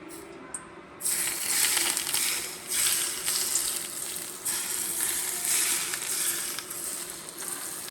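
Hot oil poured over steamed carp topped with chopped chili, bursting into a loud sizzle after a brief quiet start, then crackling in waves that rise and ease.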